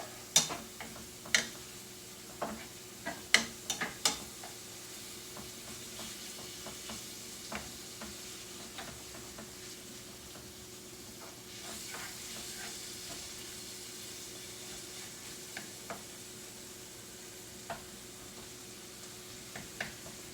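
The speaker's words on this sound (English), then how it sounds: "That sizzle sound, I love that sound." Ground beef sizzles quietly and steadily in a pan, with sharp scraping ticks of a utensil stirring near the start and occasional clicks throughout.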